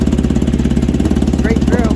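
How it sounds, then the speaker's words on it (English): A Honda Magna motorcycle with a straight pipe exhaust idles close by in a steady, poppy, pulsing rumble, with brief voice-like sounds faintly over it near the end. "Here we are at idle. Little poppy because it's not burning all the fuel up"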